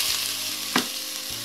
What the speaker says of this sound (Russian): И как только мультиварка нагреется, опустим обжаривать лук.